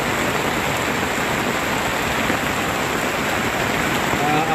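Heavy rain pours steadily at a town plaza in Jaro, a dense, constant hiss that holds loud and unbroken throughout.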